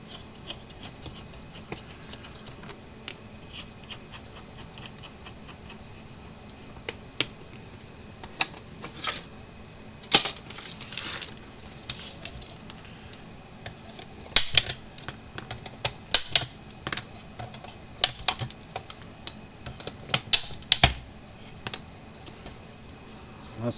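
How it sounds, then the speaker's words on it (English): Knobs and bolts come off a Speedrite 12000i fence energizer with small metallic clicks, ticks and rattles. The sounds are close, sparse and irregular, then cluster more densely later, with no speech. "let's take the knobs off here because we got to pull these bolts out"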